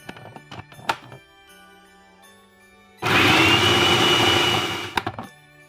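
Capers, pimento, onion and garlic whir in a blender in a loud steady burst of roughly two seconds, preceded by clinks and thumps of handling the jar and ending with a few knocks.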